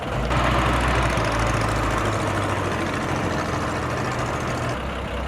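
A passenger boat's engine running on Tonle Sap lake in Cambodia, a steady loud low rumble with a constant droning hum, close and continuous throughout with no voices.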